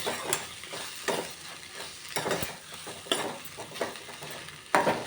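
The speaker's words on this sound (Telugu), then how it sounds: "మంచిగా నూనెలో మగ్గుతుంది." Amaranth (thotakura) leaves frying in oil, with a steady sizzle broken by repeated scraping stir strokes of a spoon against the pan at roughly one-second intervals, close and clear, without any talk.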